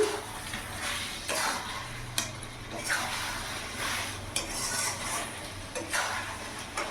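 Chicken masala with slit green chillies is fried and stirred in a pan over a raised gas flame, giving repeated spatula scrapes and metallic clanks at irregular intervals over a faint background hiss.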